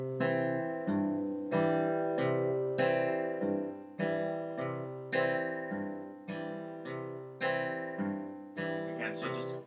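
Acoustic guitar in a Travis picking pattern with the thumb and first finger shifted to strings two and four, a steady repeating cycle of bright plucked notes over alternating bass, close and clear with no talk.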